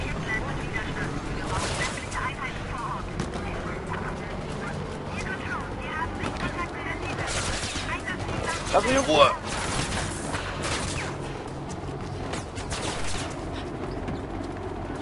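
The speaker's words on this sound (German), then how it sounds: "Hör auf mich zu schießen." Gunfire in the video game Mirror's Edge Catalyst, bursts of shots crackling through a dense, busy game soundscape with a sharper burst near the middle, while someone speaks over it.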